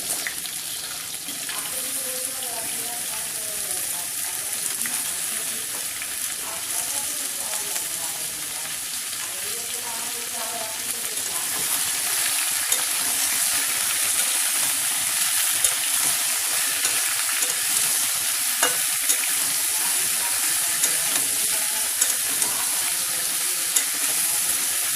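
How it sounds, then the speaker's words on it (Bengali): Potatoes and pumpkin frying in a pan, a loud continuous sizzle and crackle that grows denser about halfway through, with a few sharp ticks and no talking. "ভালো করে আমরা ভেজে নেব"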